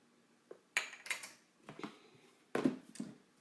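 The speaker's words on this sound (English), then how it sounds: "And give it a good stir." Cream cheese muffin filling stirred in a bowl, a series of clinking and scraping knocks of utensil against the dish in irregular bursts, fairly close and moderately loud.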